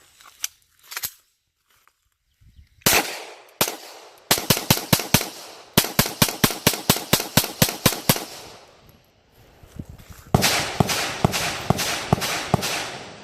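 A Glock pistol fitted with a +1 magazine follower fires 18 rounds in loud, sharp shots. A few single shots open, then rapid strings of cracks follow, and a last quick burst sounds over a steady background hiss.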